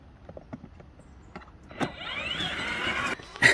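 A 24-volt kids' ride-on jeep driving, its small electric motor whirring up into a steady whine after a few light clicks and bumps, fairly quiet and close.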